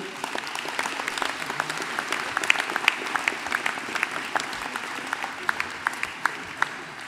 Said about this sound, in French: Vous pouvez l'applaudir avec toute son équipe.